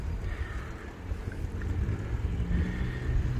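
Steady, strong wind buffeting the microphone while cycling, a continuous low roar that swells slightly toward the end, with no voices.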